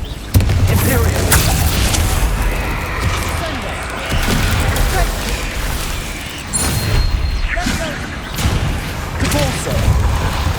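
Fire-blasting spells go off in the Hogwarts Legacy video game, heavy booming explosions and crashing bursts that recur through the stretch, loud and close, mixed with spoken voices.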